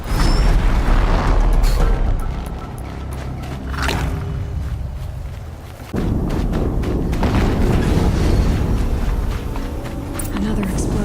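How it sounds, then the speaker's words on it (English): Explosions in the video game Horizon Zero Dawn give heavy booming thuds amid dense rumbling game noise, with a big burst near the start and another at about six seconds, and a voice talks over the action. "Another explosion."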